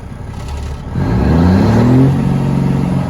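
A Cummins Big Cam 4 diesel engine, mid snap test, revs up sharply from a steady idle and holds a loud, rising roar close by, with no talking.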